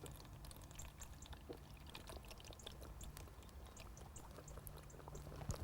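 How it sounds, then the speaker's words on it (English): Liquid is poured out of an opened tin of Scopex-flavoured sweet corn being drained for fishing bait, a quiet, steady trickle and patter lasting several seconds with faint clicks, close and alone. "I'm actually going to pour the water out of this flavoured tin of sweet corn out"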